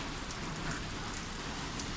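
Heavy rain pours steadily on surfaces outdoors, a dense, even hiss with no voices.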